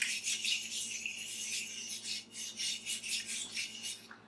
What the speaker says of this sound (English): I'm using my little mini whisk from Pampered Chef